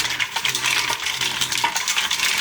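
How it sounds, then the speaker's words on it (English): Double cream is stirred into mussels cooking in a pot, making a soft bubbling simmer with light, irregular scraping and clinking of the spoon against the pan. "Mix it in nicely."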